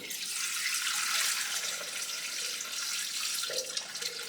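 Roughly 700 grams of water pours into a Thermomix bowl in a steady, soft stream that keeps flowing throughout, with no talk.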